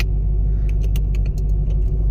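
A 2006 Chevrolet Corvette with a 6.0-liter V8 idles loudly and steadily up close, a deep even rumble with light ticking and jangling on top.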